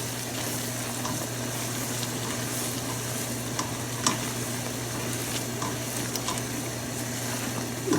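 A creamy calvados and apple sauce for pork simmers and reduces in a pan, giving a soft, steady bubbling sizzle with occasional faint clinks, quiet and close.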